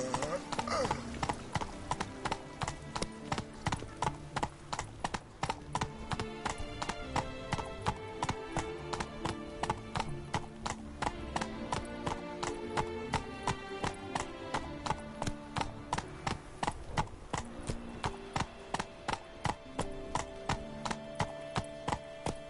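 Horse hooves clip-clopping in The Witcher 3, a steady rhythmic trot that continues for the whole stretch over a layer of game sound.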